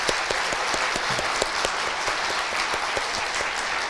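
A church congregation at an opening worship service claps together in sustained, even applause with dense overlapping hand claps, moderately distant and filling the room throughout.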